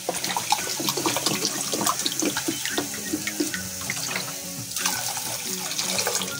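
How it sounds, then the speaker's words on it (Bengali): Water pours steadily into a cooking pot for chicken momo soup, a continuous near splash and gurgle with a short break before the flow resumes. "দু কাপ জল দেবো।"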